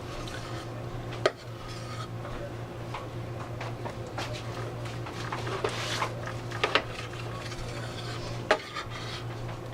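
A knife works through tender smoked brisket cooked on a Char-Broil Kamander grill, giving soft scraping and cutting sounds over a steady low hum, with a couple of sharper clinks against the board.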